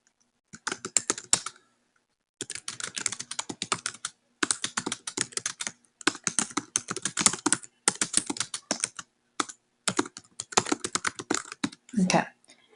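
Rapid typing on a computer keyboard, close and steady, in several bursts of dense key clicks separated by short pauses, with a brief louder thump near the end.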